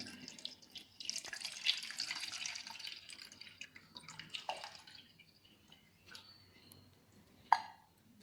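Soft trickling and splashing as soaked liquid for a Tamil pirandai kuzhambu is strained into another bowl, quiet and close, with scattered drips, a brief clink near the end and no talking.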